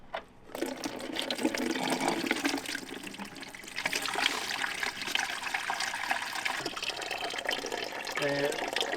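Rusty water drains from a race dragster's radiator into a roughly two-gallon bucket, giving a steady, continuous splashing pour close by.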